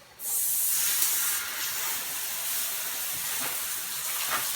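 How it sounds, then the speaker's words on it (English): A garden hose sprays water onto a motorcycle chain to rinse off cleaner. The hiss is loud, broad and close, starting abruptly and holding steady for several seconds with slight shifts as the stream moves. "take your hose, and just rinse it off"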